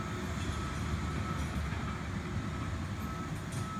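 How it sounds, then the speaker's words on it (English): A bulldozer flattening ground at a steam railroad construction site in Columbia, Goochland, giving a steady, somewhat distant diesel engine rumble that continues throughout without talk. "That's David Blankenship running that bulldozer to flatten out enough space to put"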